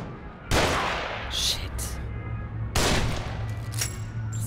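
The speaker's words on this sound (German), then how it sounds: "Komm, wir schießen gegenseitig auf uns." Bursts of gunfire in The Evil Within, dense fusillade-like volleys at two points with sharp high crackles between, loud and close, with a voice talking over parts of it.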